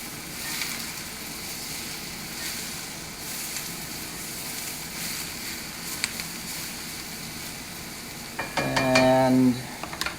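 Broccoli florets being stir-fried in a cast iron pan, with a steady low sizzle and repeated scraping stirs, ending in a short, louder clatter of utensil against the pan.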